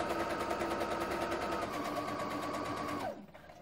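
A domestic sewing machine runs a continuous fast stitch as the stitch length is reduced for back-stitching to finish a seam, then winds down abruptly near the end with a falling motor tone.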